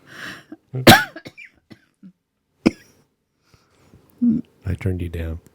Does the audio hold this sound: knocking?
no